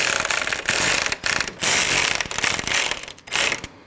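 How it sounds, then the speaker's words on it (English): A hand ratchet tightens two 10 mm bolts on the radiator fan of a 2012-2016 Honda CR-V 2.4L, close rapid clicking in several separate strokes with short pauses between them. "Tighten your two 10 millimeter bolts."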